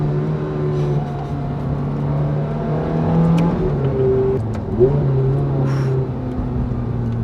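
A Ferrari F430 drives along with its engine note steady, then swelling in a brief rev and easing back. It sounds heard from inside or close by, with faint background noise and no clear talk.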